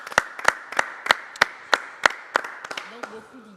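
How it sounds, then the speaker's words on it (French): Audience applause on a French local television talk show: a few crisp hand claps in a steady rhythm, fairly close, with a voice beginning to speak near the end. "on peut applaudir"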